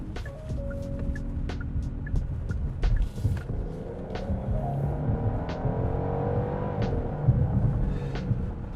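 A 2022 Genesis GV70 3.5T Sport Prestige with an 8-speed transmission kicks down several gears and accelerates hard, its engine rising in a sustained, swelling roar heard from inside the cabin with no talking.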